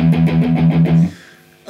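An electric guitar with light strings is picked lightly in a quick run of even notes, then a chord is left to fade. The notes are clear and close, with no voices.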